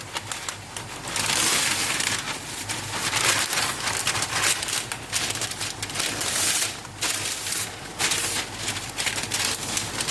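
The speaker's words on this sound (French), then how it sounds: "Vous allez plier en deux votre feuille de papier cuisson bord à bord." A sheet of baking parchment is folded in half edge to edge, giving a continuous close crinkling and rustling with sharper crackles throughout, heard alone without talk.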